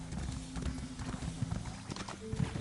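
Horse hooves clip-clop steadily at a trot in Elder Scrolls Online, a cursed eternal horse crackling with lightning, with a low rumbling backdrop and a faint whinny-like tone near the end.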